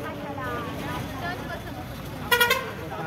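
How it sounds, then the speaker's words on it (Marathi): A bus pulls up at a stop and gives a short horn toot near the end, heard faintly over continuous road noise and background chatter. "आमची गाडी आलेली आहे स्टॉपला।"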